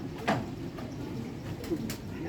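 Soft, low Ferozpuri pigeon cooing murmurs close by in a large cage against a steady hum of background noise, with a couple of faint higher chirps mixed in.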